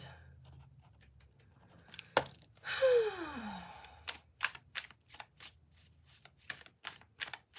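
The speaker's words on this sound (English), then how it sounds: "We shuffle the cards." Tarot cards are riffled and shuffled nearby in quick, papery flicks and taps, with a sharp whooshing slide midway, then a run of crisp snaps.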